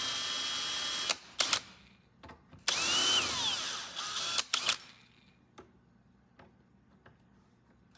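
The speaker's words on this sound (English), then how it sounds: "So I'll just center it and drill it in." An electric drill bores a hinge hole during furniture restoration, running in a few short close bursts with one longer whining spell, then clicks and small knocks as the work settles into quiet.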